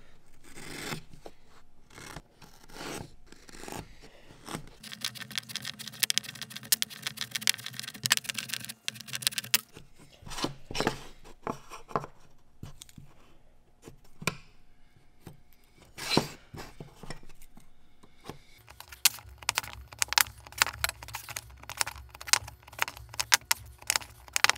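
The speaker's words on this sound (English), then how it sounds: "so now we're just gonna score everything." A blade scores marked lines on wood for a dovetail box, making bursts of scratchy, clicking strokes that come in irregular clusters and pause between them, close up with no talking.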